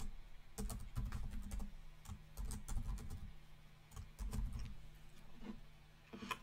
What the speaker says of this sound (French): Ici, je tape mon URL à surveiller.